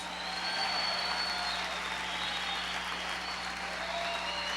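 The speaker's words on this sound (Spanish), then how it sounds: "si le va a aplaudir al Señor, hágalo" Church congregation applauding during a sermon, heard as a soft, distant, continuous patter of many hands over a steady low hum, fairly faint and without clear speech.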